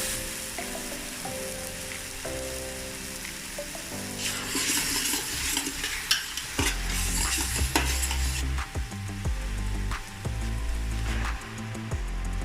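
Mushrooms fry in a pot with soy sauce, sizzling steadily while a utensil stirs and scrapes against the pot in repeated close clinks and knocks, with no talking.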